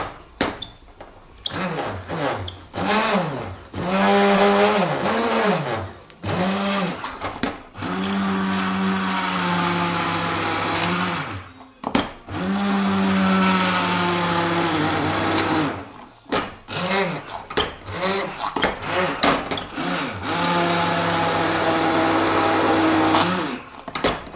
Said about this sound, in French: Et je vais mixer ça. Avec un mixeur plongeant, comme ça.